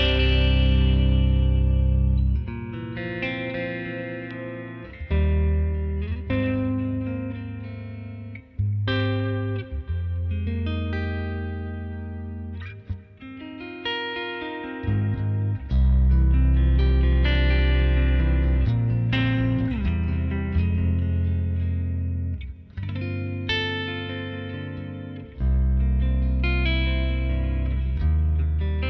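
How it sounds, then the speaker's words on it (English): Electric guitar played through a clean amp in the Archetype: Rabea plugin, ringing chords and melodic phrases with sustained notes and effects shimmer, close and full, with no talk over it. "Anyway, clean amp."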